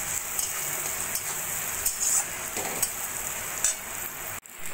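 Spices with cumin powder fry in a pan for mixed vegetable dal, giving a steady close-up sizzle with occasional stirring scrapes and brief crackles.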